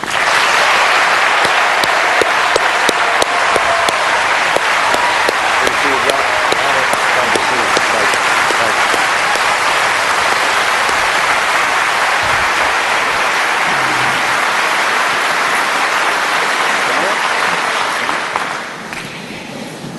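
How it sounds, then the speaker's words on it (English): A large debate-hall audience applauds as two Senate candidates take the stage at a 2008 presidential debate, loud sustained clapping that fades out near the end. "No cheers, no applause, no noise of any kind, except right now as we welcome Senators Obama and McCain"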